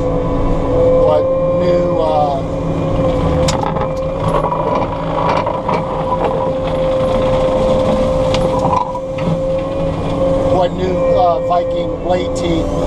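A machine fitted with Viking sword blade teeth runs with a steady high whine and rumble under ongoing talk, with irregular knocks and scraping bursts as it cuts.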